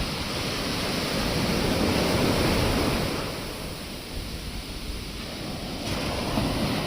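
Sea waves wash onto Dhanushkodi beach near Rameshwaram, a broad, steady roar of surf that swells, eases slightly in the middle, then builds again, with no voices.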